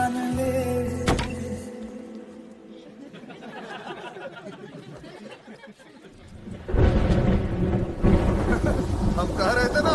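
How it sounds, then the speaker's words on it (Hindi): Thunder rumbles near the start, then steady rain builds into a loud, dense downpour during a monsoon storm, with music and faint chatter underneath. "हम कह रहे थे ना बारिश होगा"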